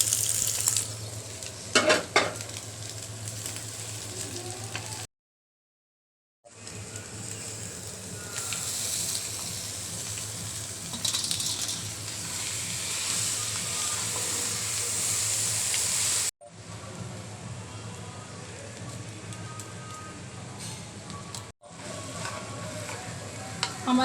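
Pre-fried potatoes tossed into a pan of egg noodles, loud continuous sizzling and hissing with scraping stir sounds, broken by a couple of short silent gaps; no voices.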